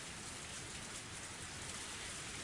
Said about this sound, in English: We could only keep running in the rain.